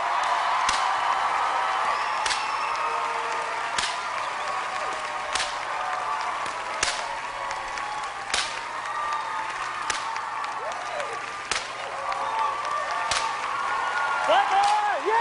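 Sustained applause from a large talent-show audience, with occasional whoops and cheers rising above the steady clapping throughout.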